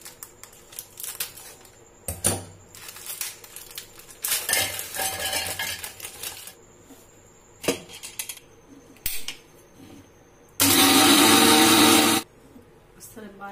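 An electric mixer grinder pulverises four small packets of Parle-G biscuits, a loud whirring burst lasting about two seconds near the end after clinks and handling sounds of the jar and utensils.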